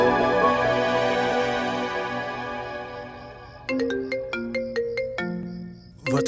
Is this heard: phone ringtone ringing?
yes